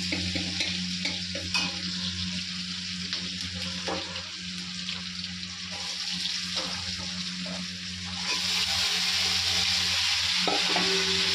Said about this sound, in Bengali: তারপরে আমি আলুটা একটু ভাজা বসিয়ে দেবো।